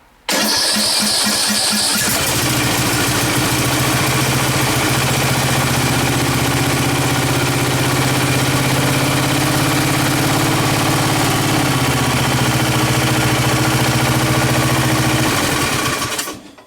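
An old garage-sale tractor engine, run with its valve cover off, catches after a brief cranking start and settles into a loud, steady close-up idle with a continuous even drone, running alone until it cuts off near the end.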